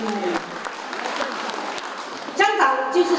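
An audience claps at an outdoor community gathering of local villagers, with spoken voices at the start and end. Broadband applause fills the middle and stays under the talk.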